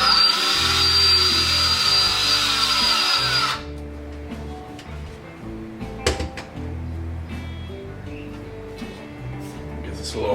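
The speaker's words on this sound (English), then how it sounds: "And what we're going to do is drill a hole" A power drill with a 5/32 bit bores a hole in a sheet of expanded PVC plastic. It makes a loud, steady close whine for about three and a half seconds, then stops, and quieter handling clicks and knocks follow.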